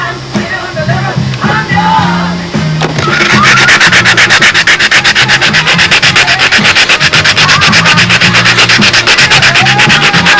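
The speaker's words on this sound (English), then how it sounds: "It's always easier just to sand this extra down with an ordinary sanding block." Wing tips of a model aircraft being sanded with an ordinary sanding block, starting with irregular strokes over background tones, then a fast steady rasping scrub that runs loud and close for several seconds.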